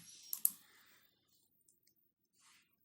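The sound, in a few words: mouse click selecting boot and clicking OK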